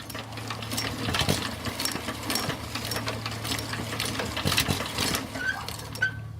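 An old single-cylinder belt-drive engine of a 1911 Harley-Davidson motorcycle chugs with rapid, even mechanical ticking and a low steady hum, running continuously up close.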